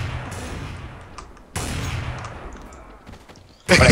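Counter-Strike: Source gunfire, with sharp bursts at the start, another at about 1.5 seconds and a loud blast near the end, set over steady game noise and no talk.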